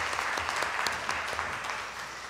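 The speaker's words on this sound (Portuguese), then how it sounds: "Uma salva de palmas," Seminar audience gives a round of applause for a speaker joining the panel, a steady, even patter of many hands clapping throughout the short stretch.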